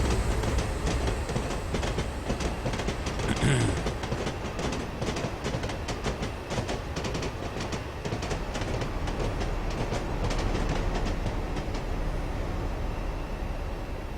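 An HST high-speed train in Train Simulator 2016 passing through Doncaster, a continuous loud rumbling roar with rhythmic wheel clatter sustained throughout.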